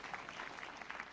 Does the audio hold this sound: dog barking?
no